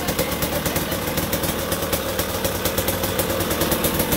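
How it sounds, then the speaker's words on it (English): A KTM 300 XC TPI two-stroke dirt bike engine idles close by, a loud, steady, rapid pulsing burble with a buzzy rasp, heard alone without voices. "Okay, yeah, start up the bike."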